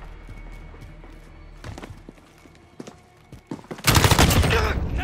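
Gunfire from a Call of Duty: Modern Warfare (2019) Domination match, with scattered shots and bursts amid game noise that build into a loud, dense fusillade at the end.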